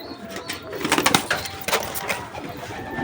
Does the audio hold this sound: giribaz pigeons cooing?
yes